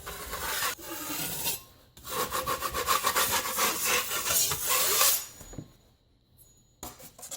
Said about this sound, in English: I'm going to take my 6-inch knife.